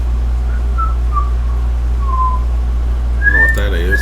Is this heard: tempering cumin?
no